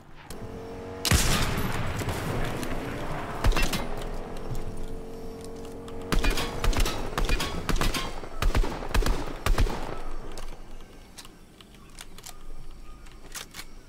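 Gunfire in the video game Fortnite, with a sharp burst of several shots at the start, then more clusters of rapid shots and single cracks spread across the stretch, loud and close, with game ambience between them.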